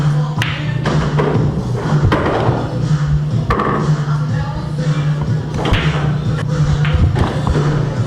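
A cue strikes pool balls during an 8-ball billiards tournament, producing several sharp knocks and clicks spread unevenly over a steady hall hum and room murmur.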